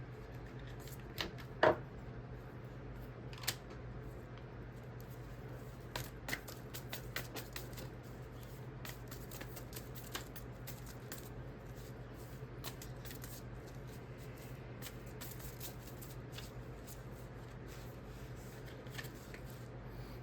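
Tarot cards are shuffled and pulled close by, a soft, continuous riffling patter with a few sharper snaps, quiet and without talk.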